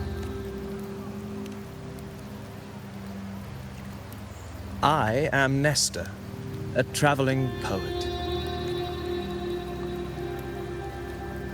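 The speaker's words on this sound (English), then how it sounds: "The rains in Septimont never seem eager to leave this season." Steady rain patters across the city of Septimont in Wuthering Waves, a soft continuous hiss beneath a voice and sustained musical tones, with a brief louder burst of sound midway.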